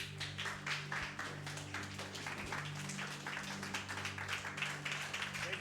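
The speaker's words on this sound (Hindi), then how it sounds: "हम परमेश्वर के दास का खड़े होकर ताली से स्वागत करेंगे।" A church congregation at a Sunday worship service stands and claps together in welcome, producing a steady, continuous wash of applause from many hands filling the room.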